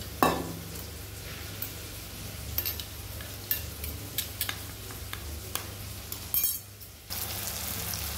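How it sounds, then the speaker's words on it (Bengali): Spice paste of ginger-garlic paste, chilli powder, cumin and turmeric being stirred with water in a bowl, a soft wet swishing under a low background hum, broken by scattered light clinks of the spoon against the bowl. "এবার আমি এটাকে জল দিয়ে মিক্স করে নেব"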